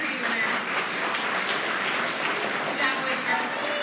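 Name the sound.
audience applause for award winners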